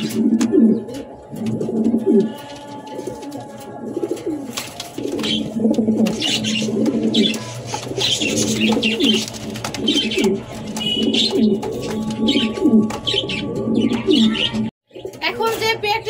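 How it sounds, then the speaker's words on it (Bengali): A male fancy pigeon at a Bangladeshi loft coos in repeated rhythmic rolling calls, close and clear, while someone talks intermittently in the background and other birds chirp faintly. "দেখতেই পাচ্ছেন কি সুন্দর করে ডাকতেছে নটটা"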